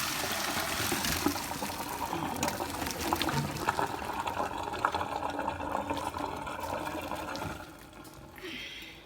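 Water from a pot of cooked beans poured out steadily into a sink, a continuous splashing, gurgling stream that tapers off near the end.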